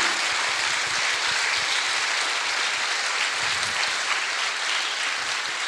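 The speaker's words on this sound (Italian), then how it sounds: "Veramente a loro va un grande applauso" Dense, sustained applause from a large crowd, loud and even throughout with no pauses.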